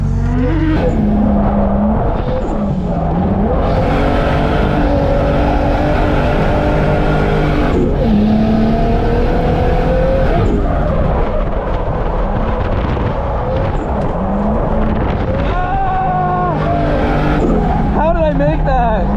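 A drift car laps a race track, its engine loud and constant throughout, rising and falling through revs with bursts of tire squeal and skidding; a driver talks over the engine noise.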